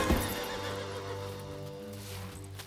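A horse being saddled gives a loud, drawn-out whinny, its wavering pitch carrying for a couple of seconds before trailing off, close by and dominant.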